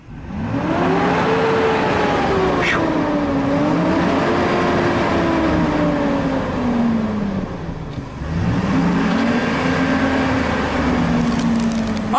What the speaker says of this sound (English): Honestly, sounds great when you rev it up.